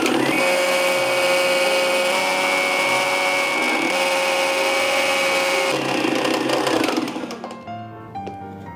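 Electric grinder whirs loudly and continuously as it finely grinds chaat masala spices, then winds down near the end with rattling as the blades slow.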